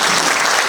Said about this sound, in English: keep those hands clapping.